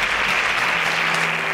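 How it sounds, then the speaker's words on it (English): A studio audience applauds a contestant on a reality competition show, steady dense clapping filling the whole moment at close range with no one speaking over it. "can we give a thunderous round of applause for Favor?"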